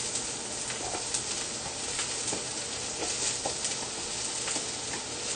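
Onions dropped into a hot wok for gluten-free beef and broccoli lo mein sizzle loudly and steadily, with a constant frying hiss and small crackling pops, close up and with no one talking.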